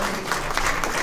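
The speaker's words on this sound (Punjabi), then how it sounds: "big round of applause" Audience members at a Kartarpur corridor community gathering give a brief, dense burst of clapping for an honoured guest. The applause is steady and moderately loud.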